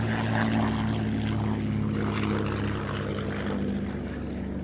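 A P-51 Mustang propeller plane drones steadily overhead during an aerobatic display, a loud sustained engine roar that fades slightly as it passes.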